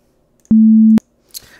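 A steady, pure generated 220 Hz tone sounds for about half a second, starting and stopping abruptly, followed by a brief soft rustle.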